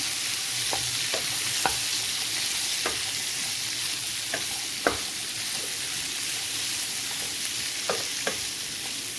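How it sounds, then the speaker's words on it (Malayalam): Hyacinth beans for upperi fry in a pan with a steady close sizzle, while a spatula stirs them in irregular sharp scrapes and taps. "നന്നായിട്ട് ഇളക്കി കൊടുക്കാം"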